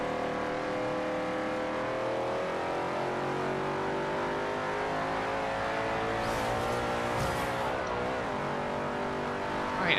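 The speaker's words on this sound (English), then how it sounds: "Try and stick to second gear here, so we can accelerate very nicely out of this." A race car in Forza Horizon 2 holds second gear and accelerates, its engine droning loud and steady with rising harmonic tones throughout, with a brief tire squeal near the end.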